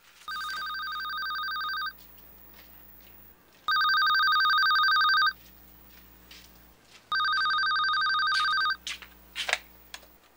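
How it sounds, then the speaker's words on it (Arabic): A landline telephone rings in a domestic drama scene, three long double-tone ring bursts with pauses between, fairly loud and clear with no talk over it. "تليفون رن"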